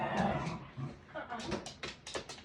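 A puppy whimpers and yips in short, high, repeated cries, close and fairly clear, while a person speaks over part of it.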